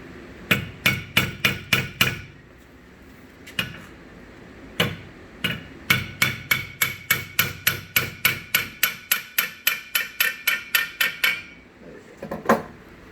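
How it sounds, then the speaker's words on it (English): Quick, light hammer taps strike in rapid runs of several blows, then a long steady series of evenly spaced metallic knocks, close and crisp. "You just grab a hammer here, just beat this lightly."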